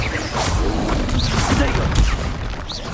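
Spell effects crackle and boom in Hogwarts Legacy as Expelliarmus, Confringo and Incendio are cast: dense, loud whooshing blasts and bursts overlapping continuously, with game sound and voices mixed underneath.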